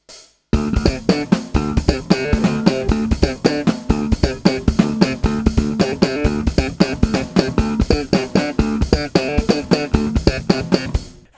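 Bass groove from a song played at full speed, 134 bpm, a dense, steady run of rapid plucked notes pulsing evenly for about eleven seconds, loud and close with no talk.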